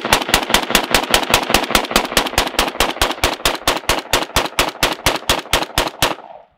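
A BFT47 rifle empties a full magazine outdoors, roughly thirty sharp, evenly spaced shots in quick semi-automatic rhythm, loud and close, ending abruptly when the magazine runs dry.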